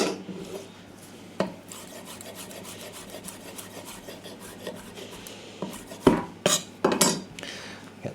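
Fresh mint leaves being finely shredded with a knife on a board, giving soft repeated rasping and scraping strokes over a low steady hum, with a few sharper clicks of the blade near the end.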